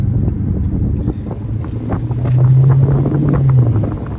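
Car exhaust roaring after a mid muffler delete, a loud, steady low rumble that swells and holds near the middle before easing off, with wind noise buffeting throughout.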